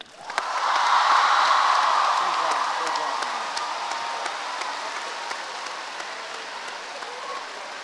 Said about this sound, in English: A huge round of applause to all the debate showcase speakers up here on the stage.